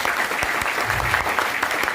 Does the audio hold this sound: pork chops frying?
no